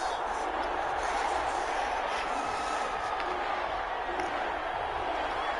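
Stadium crowd noise in a Madden NFL game before a Tampa Bay Buccaneers versus New Orleans Saints matchup, a steady, dense roar of fans without pause, with no speech in the clip.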